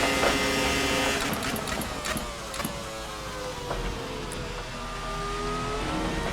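An RSS Formula 2000 V10 open-wheel race car in the Assetto Corsa racing game, its high-pitched engine whining and sweeping through revs with gear changes, continuous and fairly loud with no talking.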